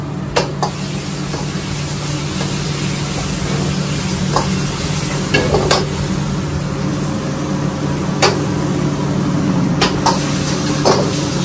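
Chilli fish hisses and sizzles as it fries in a Kolkata Chinese restaurant kitchen. The broad wash of frying noise runs steadily throughout, with a low hum beneath it and scattered sharp clinks and spatters.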